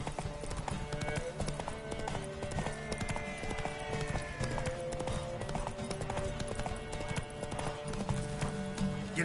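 Roach, a horse in The Witcher on PS5, gallops in a race, with steady rapid hoofbeats close and loud throughout, a brief whinny partway through, and game music and ambience running underneath.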